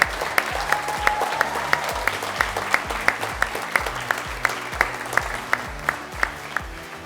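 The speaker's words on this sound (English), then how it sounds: "A big round of applause for Miss Trinity." A crowd claps steadily at a high school college signing ceremony, giving sustained applause of fairly even density with a few sharper individual claps standing out.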